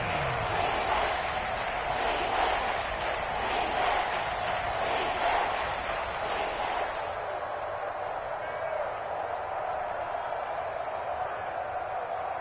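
Stadium crowd noise in a PS4 American football video game, a steady loud roar of cheering that swells through the first half and then settles to a lower, even hum ahead of a big third down.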